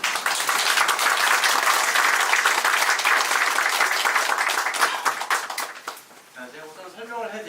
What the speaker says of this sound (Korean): 저는 좀 박수 한번 더 드리겠습니다